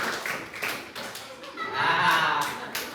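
An audience joins a rhythmic clapping chant at an education talk, with a few sharp hand claps landing in a short pattern amid murmuring voices and light laughter.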